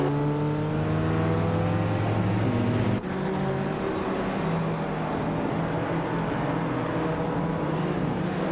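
Racing cars roar in a pack, a Mazda RX-7 Turbo with a rotary engine among them, as loud sustained engine drones shift pitch and blend into a dense, continuous rush of racing noise.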